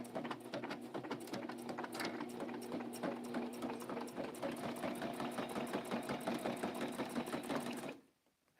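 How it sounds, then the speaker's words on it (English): A sewing machine stitches a paper pennant banner in one continuous, evenly pulsing run lasting about eight seconds, close and moderately quiet, then stops abruptly. "So I put the lever down, going to start stitching."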